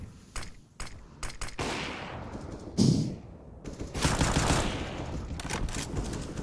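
A decoy grenade mimicking gunfire in a CS:GO match on Dust 2, bursts of rapid automatic shots loud and close amid game noise, broken by short pauses.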